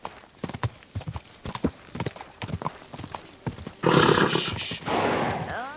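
Horse hooves clip-clopping at a gallop in the video game Kingdom Come Deliverance II, rhythmic close thuds that give way to a louder burst of rushing noise, with a brief whinny-like cry near the end.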